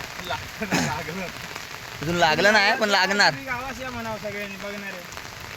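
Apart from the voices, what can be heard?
heavy monsoon rain in Konkan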